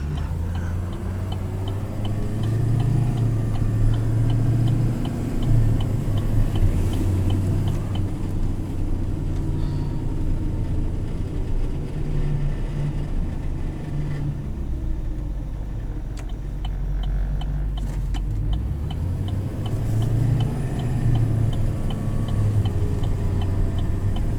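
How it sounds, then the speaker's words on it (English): A 2019 Chevrolet Silverado 6500 HD diesel truck engine idles with a deep, steady rumble continuously at close range, with a faint ticking rhythm running through the low drone. "I personally love the sound of diesel"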